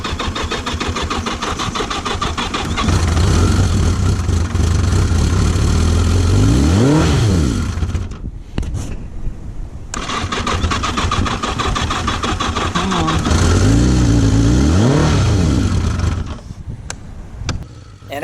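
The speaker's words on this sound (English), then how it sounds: "So you can see here it takes a few goes and I finally get it running." Yamaha XJ650 motorcycle engine cranked over on the starter a few times, catching and running, then revving. There are two long bursts of loud, close engine noise with rising and falling revs, separated by a short lull.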